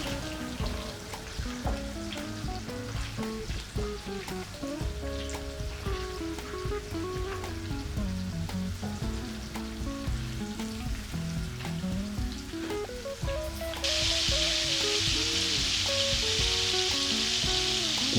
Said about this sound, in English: we're just waiting for the garlic to become slightly brown